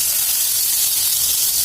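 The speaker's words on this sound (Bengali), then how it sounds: "মাছগুলো একপাশে ভাজতে দিয়ে এবার আমি কচুগুলো ভাপে বসিয়ে দেব।" Rohu fish pieces fry in a pan with a brief, even, bright hiss of hot oil, close and continuous and without talk.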